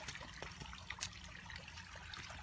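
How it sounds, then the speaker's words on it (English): A pond bubbler running in an outdoor koi pond in Minnesota gives a faint, steady bubbling trickle with small splashy pops, heard at a modest distance without speech. "And here's one bubbler."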